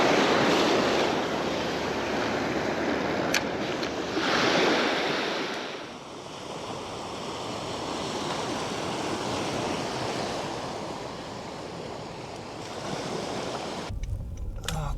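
Surf and sea waves wash steadily at a river mouth where seawater mixes with the river. The roar is broad and continuous, with wind buffeting the microphone, and it dips briefly midway before a sharp cutoff near the end.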